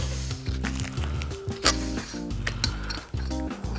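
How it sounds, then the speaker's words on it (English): Base plate being threaded into the leg of an RL2 bicycle fork, a close, busy run of metallic ratcheting and clicking mechanism sounds with small knocks, steady and fairly loud for the whole stretch. "Thread your base plate in."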